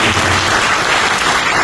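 An audience clapping for Naushad Sahab at a talk event in Lucknow, a loud dense continuous burst of applause from many hands, with no voices over it.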